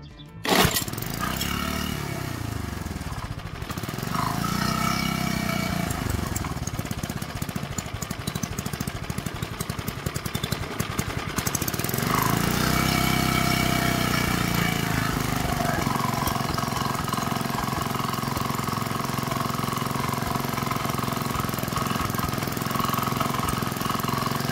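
A tiller motor roars steadily at full throttle, loud and continuous, with the engine tone rising and falling in sweeping surges.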